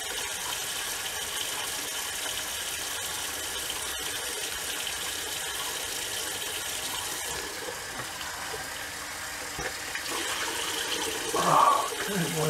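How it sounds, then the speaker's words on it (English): Cold tap water runs steadily into a sink to wet a shaving rag during a straight razor shave, a continuous broadband splashing hiss throughout, with a brief louder gush near the end. "I'm going to use my shaving rag here and wet it with cold water."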